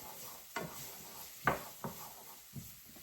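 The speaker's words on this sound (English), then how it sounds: "Let me add just a little bit of garlic powder to my onions. Give them a mix." Onions dusted with garlic powder are stirred in a frying pan, giving four or five short scraping strokes over a soft, steady sizzle, close and fairly quiet.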